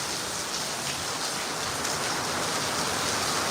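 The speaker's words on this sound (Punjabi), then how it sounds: "ਹੁਣ ਫੇਰ ਫੁੱਲ ਸਪੀਡ ਤੇ ਆ ਗਿਆ ਮੀਂਹ" Rain falls hard and continuously, a broad even rushing hiss that swells slightly toward the end, near and steady with no speech.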